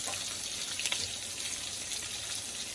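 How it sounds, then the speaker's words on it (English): Asparagus sautés in canola oil in a pan, giving a soft, continuous hiss that is fairly faint and even, with a brief louder flare near the start and no voices. "I'm gonna take this asparagus and just drop it right in here. And we're just gonna saute these until they're nice and tender."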